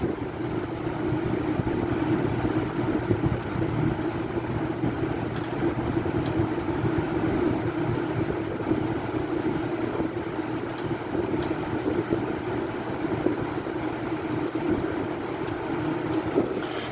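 Two Galaxy box fans run together, a steady, close whooshing hum of spinning blades and moving air with no change in level throughout.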